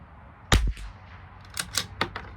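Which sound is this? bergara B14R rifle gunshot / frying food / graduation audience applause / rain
bergara B14R rifle gunshot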